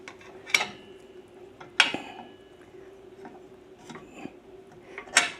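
A pry bar works a Blue Ox tow bar base plate into line on a Jeep frame, giving a few sharp metallic clanks and scraping knocks spaced irregularly over a quiet background, close by.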